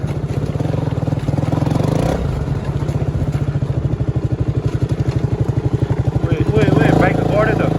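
A motorcycle off-roading on a river trail chugs and revs hard and close, its engine pulsing rapidly and clattering over rough ground, with a voice talking over it.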